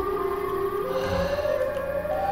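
Siren Head's siren wails in a Minecraft horror game in a forest, a long eerie tone holding and then sliding upward, loud and alone over a low rumble.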